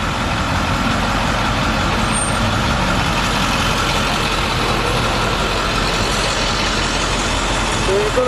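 A tour bus idling and slowing to a stop, a loud, steady diesel rumble heard from inside the bus with a brief hiss near the end.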